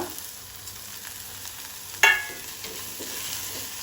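Finely chopped ginger lands in a pan of hot spiced oil with turmeric and coriander powder for Goan-style dal fry: a low background sizzle, then a sudden sharp hiss midway that settles into steady frying.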